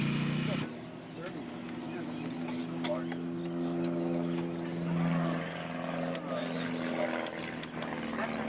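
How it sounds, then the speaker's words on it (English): An airplane passes overhead near a reenactment encampment, a sustained droning engine hum with steady harmonic tones, moderately loud, with scattered voices and clatter in the background. "Hear the airplane? Yes, we heard the airplane"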